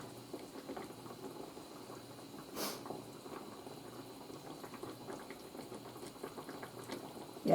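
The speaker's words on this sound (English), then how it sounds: "bring it to a boil. So I'm going to wait till it's a rapid boil all over." Pork chops simmering in creamy liquid in a skillet, coming up to a rapid boil, give off a steady low bubbling and sizzling hiss, faint and continuous, with a brief louder splash partway through.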